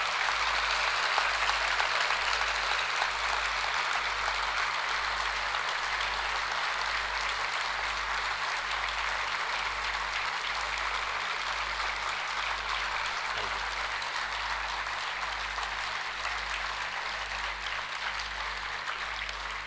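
An audience at a humour club's anniversary celebration in Triplicane claps as a salute to soldiers, a dense, sustained round of applause that stays even and loud throughout, with a low rhythmic hum underneath.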